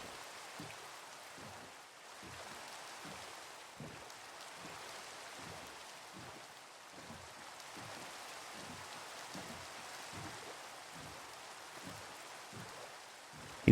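Rain falls in Minecraft, a soft steady patter with a faint continuous hiss, unbroken and moderately quiet throughout.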